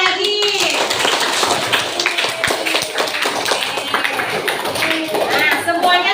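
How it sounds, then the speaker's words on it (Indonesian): Classroom of students in an Indonesian multigrade school clapping for a group returning to their seats, a dense, steady patter of many hands held close, with voices talking over it throughout. "Berikan tepuk tangan lagi."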